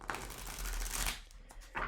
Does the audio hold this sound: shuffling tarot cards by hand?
yes